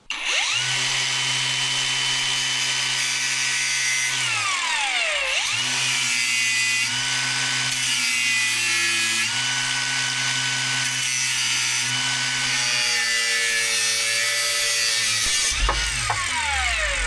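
A power tool cuts through a rusty old shackle on a boat, a loud continuous whining grind that holds steady, dips and drops in pitch around the middle, then revs back up and cuts again for the whole stretch.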